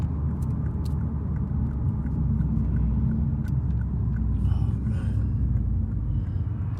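A Lexus RC F drives and swings through a U-turn: a steady low engine rumble heard from inside the car, loud and continuous, with light road noise and a few faint clicks.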